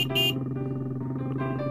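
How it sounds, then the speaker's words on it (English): Playful cartoon car horn effects from a toddler iPhone game, a bright high honk at the start followed by a sustained buzzy, tonal horn drone that changes pitch near the end, electronic and close. "And there's all sorts of crazy horn sounds."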